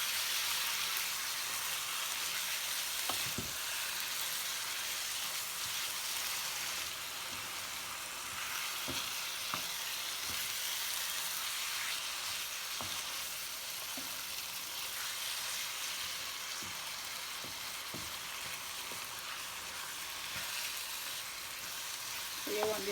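Seasoned beef frying in a pan for Jamaican beef patties, a steady close sizzle with occasional pops and stirring clinks, with no talking.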